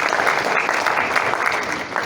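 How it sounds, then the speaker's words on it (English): At a Union Township health conference, an audience gives a doctor a round of applause. The dense clapping is moderately loud and steady for about two seconds, with no speech over it. "a round of applause as well."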